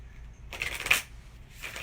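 Oracle cards are shuffled in a quick burst of papery riffling lasting about half a second, with a fainter flutter just after, close and quiet, with no talk.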